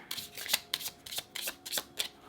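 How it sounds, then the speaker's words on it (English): Several quick riffling bursts of tarot cards being shuffled, close and crisp, repeating in a steady rhythm with short pauses between. "I feel like I gotta shuffle just a little bit more for you here."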